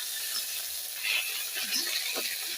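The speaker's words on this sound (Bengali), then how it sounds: "তার জন্য একটু নিম পাতাটা ভাজলাম।" Neem leaves frying in oil for a Bengali Chaitra Sankranti meal give a steady, soft sizzle, with a few brief stirring scrapes near the middle.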